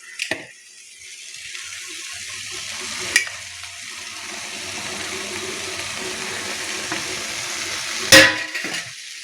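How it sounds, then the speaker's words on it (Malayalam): Spinach tossed with a ground spice paste in a hot frying pan, giving a steady soft sizzle with scraping stir strokes and two sharp utensil knocks against the pan, close and without talk. "ചീരയുടെ എല്ലാ ഭാഗത്തും കൂട്ട് വരത്തക്കവണ്ണം നന്നായിട്ട് ഇളക്കി"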